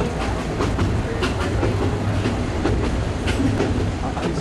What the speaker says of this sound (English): where we are is on the train to Chiang Mai